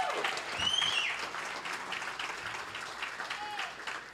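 A church congregation breaks into loud applause and celebration, dense clapping mixed with cheers and whoops that eases slightly over a few seconds, with voices audible through the crowd.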